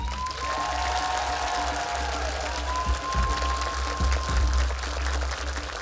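Audience applause at a live stage performance, a steady wash of clapping that holds throughout, with a sustained musical tone and a few low thumps underneath.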